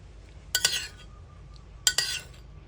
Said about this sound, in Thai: ปิดฝา